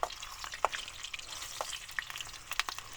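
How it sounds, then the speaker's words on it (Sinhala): Food sizzles in a frying pan while a knife stirs and scrapes through it, with irregular clicks and scrapes over a soft, steady frying hiss. "මම පිහියෙන් පුළුවන් විදියට කලවම් කර ගන්නවා."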